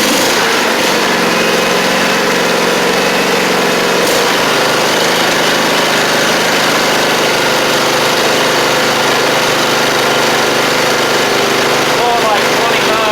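A John Deere GT235 lawn tractor engine runs loud and close at high speed, a constant dense drone that holds steady through the whole stretch.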